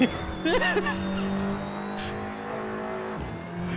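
A racing car in an Audi TT Cup sim race at Road Atlanta brakes hard, engine note dropping with a brief squeal of tires, then a steady drone continues; voices talk over it.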